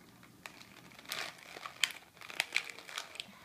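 Crinkly plastic packaging of a Disney Tsum Tsum toy being pulled and opened by hand, soft irregular rustles and crackles at close range, fairly quiet throughout.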